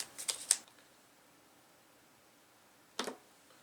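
A deck of item cards for a tabletop board game is shuffled, giving a quick burst of riffling clicks, then a pause and a second short riffle, soft and close in a quiet room.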